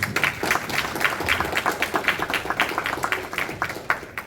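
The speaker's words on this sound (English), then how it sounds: "just give yourself a round of applause, please" An audience at a cricket club presentation evening held at a Hindu temple in Derby claps in a steady, moderately loud round of applause, the individual claps fairly distinct and evenly paced, with no speech over it.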